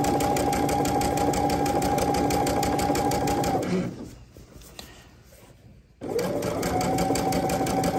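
A serger runs fast and steady while sewing a knit neckband with contrasting thread, a loud close whirring drone that stops briefly for a few seconds, then starts again.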